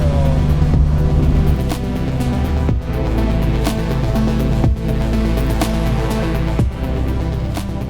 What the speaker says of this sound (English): My God, the traffic of trucks, look at this!